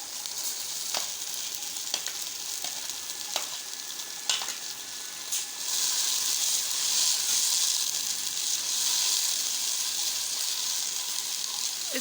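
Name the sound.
tomatoes added to frying onions, sizzling in the pan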